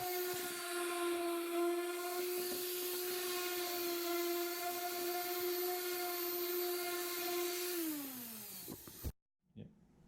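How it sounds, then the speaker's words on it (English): A power sander runs on plywood edges with a steady, fairly quiet whine that holds for several seconds, then winds down and stops, followed by a couple of faint knocks. "we're going to give the plywood a sand to make sure we have no rough edges"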